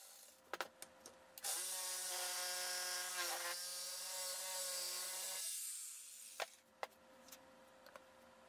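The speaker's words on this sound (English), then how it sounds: "I luckily remembered to also cut the holes for the speaker terminal cups" A power tool cuts holes for speaker terminal cups in a budget two-way speaker cabinet, running steadily for about four seconds with a whining harmonic tone, framed by brief taps and handling knocks before and after.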